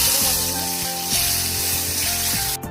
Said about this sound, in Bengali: কড়াই বসিয়ে দিয়েছি পটল ভাজার জন্য